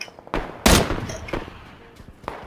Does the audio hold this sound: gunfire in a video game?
yes